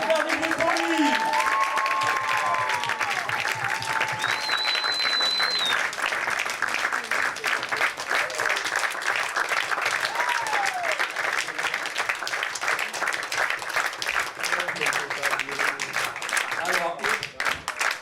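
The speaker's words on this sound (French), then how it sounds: "Je vais vous demander tout de suite dans la foulée d'applaudir votre vainqueur." A French stage-show audience applauds the voted winner as he is called up: sustained, dense clapping with cheering fills the whole stretch, loud and steady, while a host speaks briefly over it.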